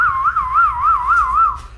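A wailing emergency siren from a TV broadcast, rising and falling in a steady, fast cycle, loud and continuous over a low background rumble with no speech.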